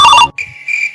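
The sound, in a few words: phone ringtone ringing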